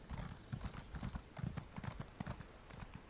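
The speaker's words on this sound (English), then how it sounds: "My beautiful new horse." A horse mount in Elder Scrolls Online clip-clops along at a slow steady gait, its hooves thudding in an even rhythm, quiet and alone.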